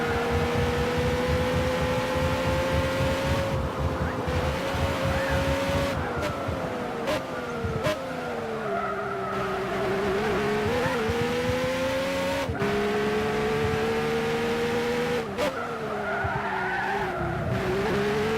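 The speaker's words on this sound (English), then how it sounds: "a fantastic sounding car there for Johnny B, 1990." Race car engine from Gran Turismo 6 online racing, a steady high-pitched drone that rises and dips through gear shifts and cornering, with tire skids, loud and continuous throughout, no talking.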